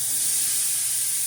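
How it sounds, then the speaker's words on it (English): Pork chops searing on a grill give a loud, close, unbroken hiss that stays even for a brief moment. "Give that a nice little sear."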